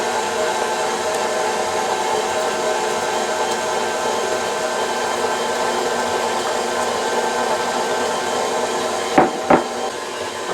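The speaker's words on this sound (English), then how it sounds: "I'm going to start creaming the butter here. It's going to make a little noise." Electric mixer creaming butter for Italian ricotta cookies, a steady close whirring drone with two brief knocks near the end.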